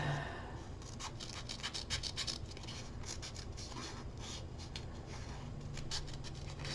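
Scissors cutting a leaf pattern out of folded white paper, a quiet close run of rapid snips and rustling paper scratches, with no talking.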